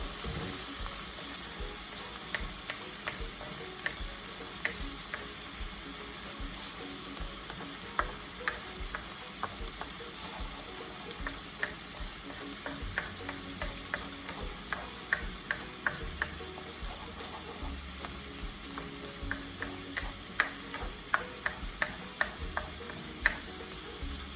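Egg fries in a pan with bitter gourd and shrimp, a steady close sizzle running throughout, dotted with small ticks and light scraping of a stirring utensil; no voices.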